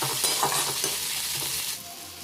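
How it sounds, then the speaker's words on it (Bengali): Chopped onion sizzling in oil in a kadai, a dense continuous hiss with faint stirring, close and steady, no voices. "পেঁয়াজটা হালকা ভেজে নিতে হবে।"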